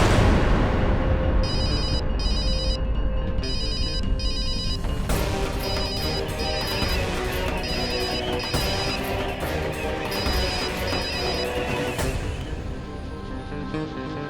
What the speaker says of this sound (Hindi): मत उठा उसका फोन।